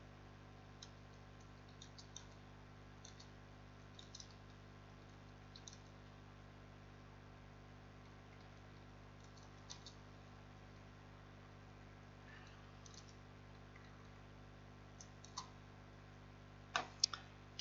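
Faint clicks from typing on a computer keyboard fall in sparse, irregular clusters across a long quiet stretch over a steady low mains hum, with a few louder taps near the end.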